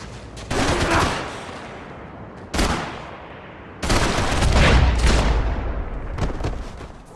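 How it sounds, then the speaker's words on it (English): Bursts of rapid automatic gunfire in the video game Max Payne 3 crackle loudly in several volleys, with a brief gap between them and a heavier, booming stretch in the middle. "Gunfire over Hoboken."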